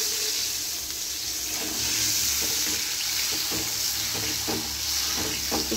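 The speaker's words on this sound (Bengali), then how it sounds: "মশলার জলটা করে রেখেছিল মশলাটা এবার দিয়ে দিচ্ছি" Spice paste and water going into a hot frying pan for a vegetarian potato and pointed gourd kosha, a steady broadband sizzle with faint stirring clatter, fairly close and continuous, no talk.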